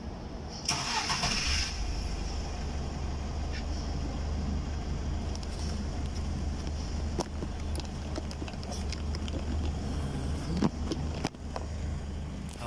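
A Foton Transvan's engine starts after a diagnostic check clears its check-engine fault: a brief cranking burst, then a steady, loud idle rumble that runs throughout, with a few faint clicks and knocks on top.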